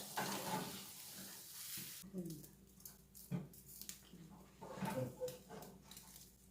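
Pork neck sizzling on a hot wire grill inside a fireplace, a steady crackle with some scraping and faint low voices in the background.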